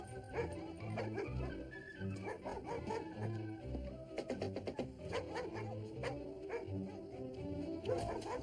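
Several dogs barking and yipping in a house, repeated excited barks with some whimpering, fairly close, over a low background murmur.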